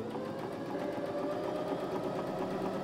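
A sewing machine runs steadily, stitching down a turned sleeve seam on a Regency apron dress, its continuous whirring motor hum close and even throughout, with no voices.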